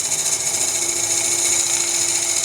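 A bowl gouge taking a light cut on wood spinning on a lathe, a steady, continuous hiss and whir with a faint hum beneath and no pauses.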